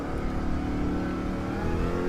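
Engines of Corvette and Mustang race cars hum steadily in the Gran Turismo 7 racing game, a continuous droning engine tone holding at an even, moderate level with no talk.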